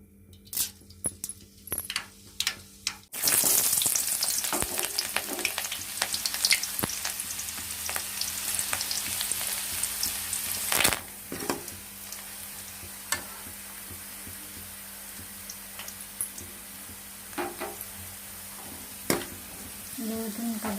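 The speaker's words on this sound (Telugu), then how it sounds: "అలసందలు ఉడుకుతున్నాయి కదా" Black-eyed peas cooking in a masala curry paste in a pan, with a steady loud sizzle and bubbling after a few quiet clinks, broken by occasional spoon scrapes and knocks against the pot, close up with no talk.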